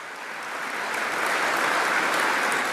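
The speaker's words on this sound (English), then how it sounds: "Give them all a round of applause." Convention delegates at the Rural Municipalities of Alberta gathering applaud a row of provincial government ministers. Dense crowd clapping swells over the first second and then holds steady and full to the end.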